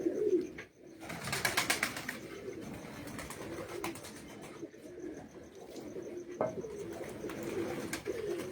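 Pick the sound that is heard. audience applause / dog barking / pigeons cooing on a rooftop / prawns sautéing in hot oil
pigeons cooing on a rooftop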